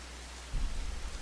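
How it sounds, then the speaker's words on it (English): Heavy rain pours in the video game Rain, a steady dense wash that swells louder partway through with a low rumble beneath, no voices. "Only the rain falling even harder now remained, hammering down upon him."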